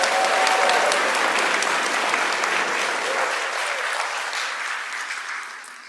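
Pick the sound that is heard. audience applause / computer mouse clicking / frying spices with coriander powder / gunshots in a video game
audience applause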